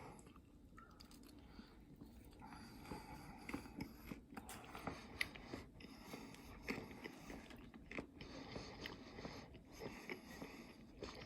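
Someone biting into and chewing a fried chorizo sausage empanada with a breaded, crimped crust, giving soft repeated crunchy chews close to the mic at a low level.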